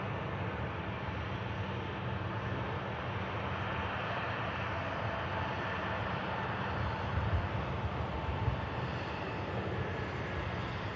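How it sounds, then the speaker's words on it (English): A Jet2 airliner arriving from Mahon touches down at Manchester Airport, a steady broad engine roar held at a distant, even level throughout with no voices. "Here's the Jet 2 from Mahon, touching."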